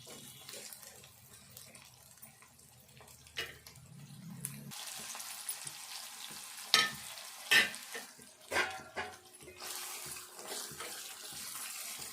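Cabbage curry cooks in a pan, with scraping stirring strokes, soft sizzling and watery swishing, fairly quiet and uneven, with several louder clattering bursts from the spoon against the pan toward the end.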